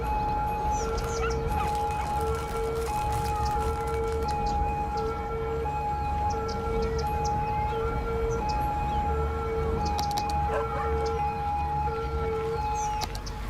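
Police car siren in Cities: Skylines, a sustained wailing tone held steady over a city-traffic rumble, moderately loud and continuous with no talking, a few faint clicks and chirps scattered through.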